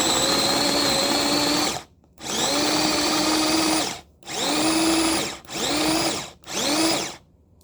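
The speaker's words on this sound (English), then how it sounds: "I forgot I had this mini like food processor that's theoretically for like onions and garlic." A mini food processor chops cranberries in five short whirring bursts separated by brief silences, a loud high-pitched motor whine that spins up and cuts off each time.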